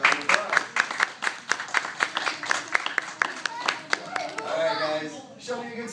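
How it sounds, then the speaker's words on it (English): A small group at a karate class claps in distinct sharp claps, some in loose rhythm, settling into scattered clapping with children's voices and chatter toward the end. "Big round of applause."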